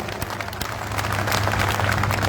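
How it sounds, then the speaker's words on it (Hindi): Audience applause at a kul hind mushaira poetry gathering in Mira Road, Mumbai: a dense, continuous wash of crowd clapping that swells slightly louder midway, with a steady low hum beneath. "एक बार मुझे सारे लोग ताली बजा करके माहौल दें।"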